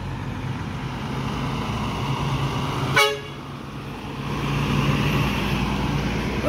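Intercity bus at the Sukabumi terminal gives one short, sharp horn toot as a greeting from its driver, standing out over a low idling diesel rumble and traffic noise.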